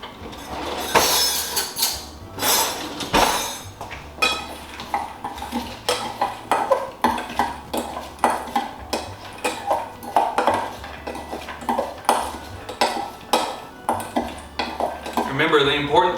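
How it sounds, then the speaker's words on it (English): Seasoned walnuts in oil being mixed in a bowl with a spoon, producing repeated close clinks and scraping clatter in an irregular rhythm, with a person talking over it. "We're gonna give that a good mix up here before we start chopping it up."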